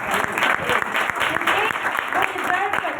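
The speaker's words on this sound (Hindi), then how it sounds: "तो मैं चाहूँगी कि आप अपने स्पिरिचुअल मदर एंड फादर के लिए जोरदार तालियां" Steady applause from a church congregation at a Mother's Day service, honouring spiritual mother and father, with rapid overlapping claps and a voice faintly audible underneath.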